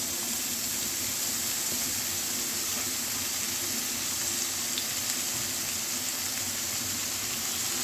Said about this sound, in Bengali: এই যে এখন ভাজিটা দিয়ে দেবো